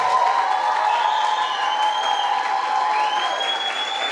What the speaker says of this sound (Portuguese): Cadê o aplauso das crianças?